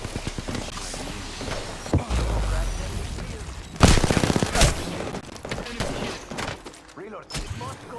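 Video game gunfire from an end-game match crackles in loud bursts and scattered volleys, with a sharp cluster near the middle, under near-constant excited talk from players.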